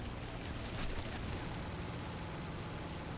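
Machine guns on a World War 1 biplane in War Thunder strafe an SdKfz 222 armored car, a dense continuous rattle of rapid gunfire filling the whole stretch, loud and unbroken.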